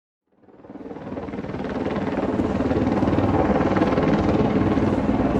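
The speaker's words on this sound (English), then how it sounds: "Followed the beating blades of a helicopter" A helicopter's rotor blades thump rapidly and steadily as the aircraft approaches, growing louder until the beating drone fills the air.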